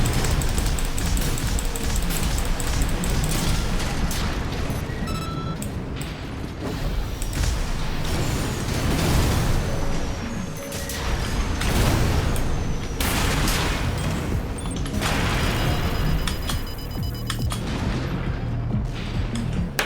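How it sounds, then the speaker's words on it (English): Heavy mechanised combat in Armored Core VI, with a grenade launcher firing amid repeated booming blasts, mechanical clanks and dense, continuous battle noise filling the whole stretch. "So the left weapon is a grenade launcher."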